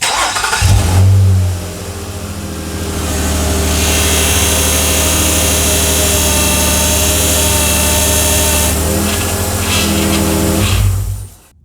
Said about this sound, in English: I'm going to start the car and I'm going to turn the wheel all the way one way and hold it there